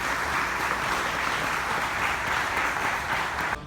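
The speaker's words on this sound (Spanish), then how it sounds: "Demos un fuerte aplauso a Bruno Ferreira." At a national journalism award ceremony, the audience gives steady, dense applause that holds evenly before cutting off abruptly at the end.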